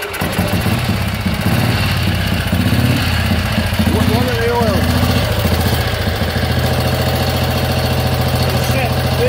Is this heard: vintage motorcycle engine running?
yes